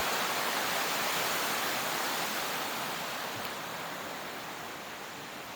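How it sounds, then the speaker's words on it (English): The River Thames flows past at Goring as a broad, steady rushing wash, loud and close at first and fading slightly toward the end, with no voices. "But this is the River Thames along here"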